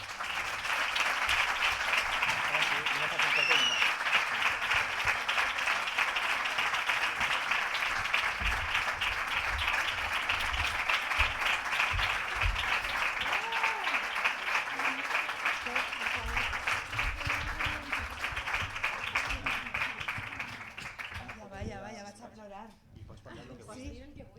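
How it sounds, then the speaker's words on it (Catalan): A gala audience gives sustained, loud applause for a content creator, a dense even clapping wash with crowd voices mixed in, fading near the end. "per favor un fort aplaudiment per a Amàlia Garrigós"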